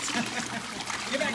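Water pours and trickles from the waterfall jets of a Master Spas swim spa in a brief, soft, close splashing stream.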